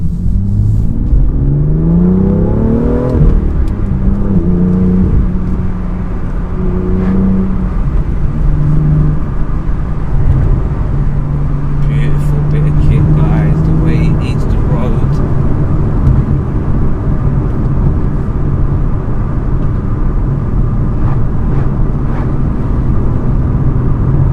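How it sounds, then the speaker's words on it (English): A BMW M2 engine revving on the move, a loud continuous drone with rising pitch sweeps in the opening seconds, then a steady cruising hum beneath someone talking throughout. "The way the engine just howls"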